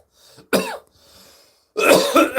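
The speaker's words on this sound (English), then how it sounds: "got the chronic cough" A man coughs harshly in two bursts, a short single cough followed after a pause by a longer, louder fit of several hacking coughs, close to the microphone with faint background noise between.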